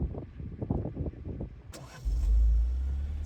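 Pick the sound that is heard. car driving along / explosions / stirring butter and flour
car driving along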